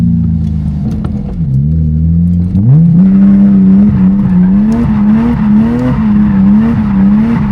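A BMW E30 being drifted by a novice holds a loud, sustained engine drone that dips and then climbs back as the revs rise, with tire squeal mixed in through the slide.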